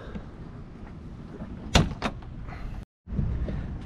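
Engine cover on a 2005 Ford GT in Speed Yellow lifting open, with a sharp latch clunk followed by a second thump and a soft mechanical whoosh, close and fairly loud, then a brief silence and low rumbling handling noise.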